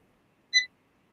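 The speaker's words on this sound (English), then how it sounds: "I turn it on, and then you would the beeps" One short, clean electronic beep from a timer app, bright and close, set against near silence.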